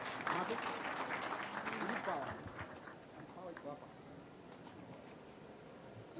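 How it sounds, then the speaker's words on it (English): A crowd at a county energy week event breaks into applause, loud and dense at first with voices mixed in, then thinning and fading to a lighter patter. "Let us give them a round of applause."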